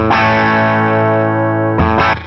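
Electric guitar played through an amplifier on a low-gain setting with a JRockett pedal in the chain: a loud, sustained distorted chord rings for almost two seconds, then two quick restruck chords follow, thick with overdrive and effects.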